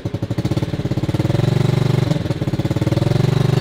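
A scooter engine running close and loud with a steady rapid chugging pulse as it's given a little gas, the throb holding even throughout.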